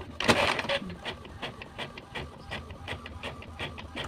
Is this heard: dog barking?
no